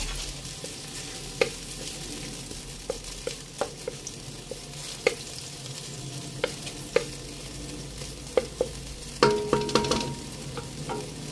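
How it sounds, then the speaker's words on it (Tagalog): Ingredients for dinengdeng sauté in a pan under a constant low sizzle, punctuated by sharp scattered clicks of a utensil stirring and scraping, with a brief burst of clatter near the end. "Igisa muna natin."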